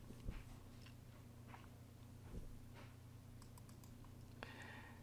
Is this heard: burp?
no